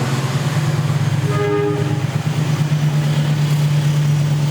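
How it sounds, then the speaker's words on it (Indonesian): A train rolls steadily past at close range, its horn blaring as a sustained tone through the middle of the passage over a constant loud rumble of wheels and carriages. "ini kereta kalau sudah kebiasaan lewatnya jam berapa ini?"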